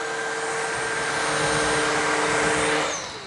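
A Shark Rocket Pro cordless vacuum cleaner runs at normal power without turbo, giving a steady loud whine close by that begins to wind down at the very end.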